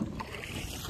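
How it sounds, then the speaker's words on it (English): Rowing a rowboat on open water: faint, brief watery splashing and oar movement under steady wind noise. "So we're trying to row the boat."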